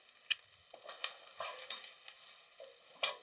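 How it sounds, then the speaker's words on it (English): Flour and tomato paste cook in a cast-iron pan, giving a quiet, soft sizzle punctuated by scattered scrapes and taps of stirring, with a couple of sharper clinks. "you want the tomato paste and the flour to cook out just a little bit, about a minute or two."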